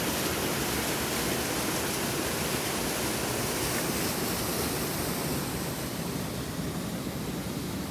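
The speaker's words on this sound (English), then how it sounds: "I have a stream crossing here" A small brook on the Appalachian Trail in Maine, near Pierce Pond, rushing steadily at a stream crossing; a dense, unbroken wash of flowing water fills the whole clip, loud and close, with no voices.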